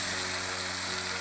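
Ground onion, tomato and garlic paste hits chicken frying in a pan for village-style chicken kachnar, giving a steady close sizzle with a faint hum beneath.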